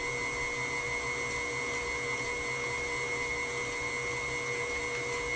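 An electric mixer whirs steadily through chocolate mousse, a constant motor drone with a faint whine, moderately loud and unbroken throughout.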